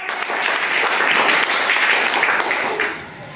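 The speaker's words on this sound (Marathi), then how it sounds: "जान्हवीसाठी सगळ्यांनी टाळ्या." Students clap together at a school quiz, a steady burst of crowd applause lasting about three seconds before fading slightly at the end.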